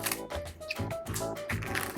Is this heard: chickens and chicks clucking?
no